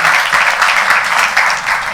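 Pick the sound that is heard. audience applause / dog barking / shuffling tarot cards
audience applause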